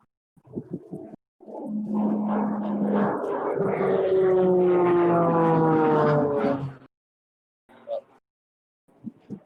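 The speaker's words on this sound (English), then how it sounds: "That was a trainer aircraft that just flew overhead." A trainer aircraft passes overhead, a steady tonal engine drone swelling for several seconds and then cutting off, fairly loud and near, with brief bird-like coos and faint sounds before and after.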